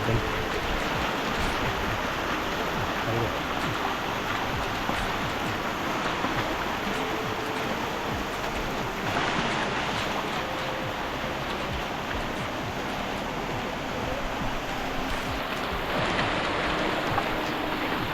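A strong, continuous rush of a forceful stream current in monsoon rain on a jungle trek fills the scene, dense and unbroken with no voices, loud and close throughout.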